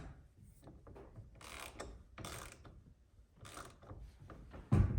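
A socket wrench with an extension tightening the 13 mm steering column bolt on a 2001 Jeep TJ, repeated ratcheting strokes with metallic clicks and grinding, close and moderately loud.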